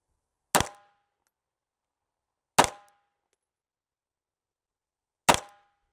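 Three sharp pistol shots from a Staccato XL fired at a target 15 yards away, each a loud crack with a short ringing tail, spaced a couple of seconds apart with silence between.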